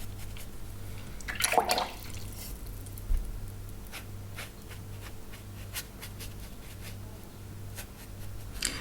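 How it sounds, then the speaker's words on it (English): Watercolour brush carrying only water, feathering across paper in soft, faint wet strokes, with a couple of louder scrapes early on and quiet brushing after. "just with a little water in the brush, no pigment there at all, just feather it out, pull it to where it needs to go"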